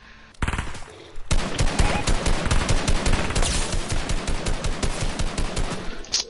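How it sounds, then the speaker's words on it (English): Rapid automatic gunfire from the Fortnite video game, dense sustained bursts of shots firing continuously and loudly after a brief quiet opening, with no talking. "who the fuck is shooting?"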